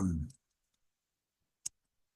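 A single sharp computer mouse click lands alone in near silence, just after a short burst of speech at the start.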